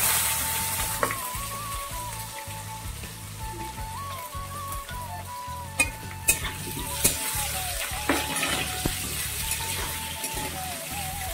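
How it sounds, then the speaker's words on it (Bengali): Cut potatoes sizzle steadily in a hot pan, a continuous frying hiss with scattered sharp pops and clinks of a utensil stirring throughout, no voices over it. "পটল কাটা উঠে দিয়ে আমি আলু কাটা ভেজে নেবো।"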